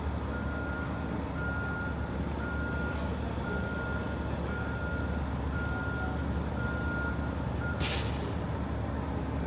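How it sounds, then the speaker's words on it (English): A bus reverses in stalled traffic near Independence Hall in Philadelphia, its steady reversing beeper pulsing evenly over loud street rumble, with a sharp hiss of air brakes near the end. "The bus is not turning. It's reversing."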